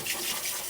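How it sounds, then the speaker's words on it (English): Cold tap water runs steadily into a sink over a hair system, a brief, even hiss of flowing water with no talk. "Use some cold water."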